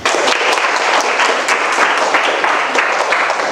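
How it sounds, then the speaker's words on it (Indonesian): Dense applause from a classroom audience of students, loud and steady with many overlapping claps filling the short burst, no talking over it. "tepuk tangan"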